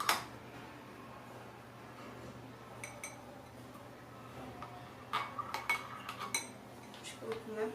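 A spoon working through a homemade fluffy slime made with glue and shampoo in a bowl, giving sparse, faint clinks and scrapes that come in short bursts toward the end.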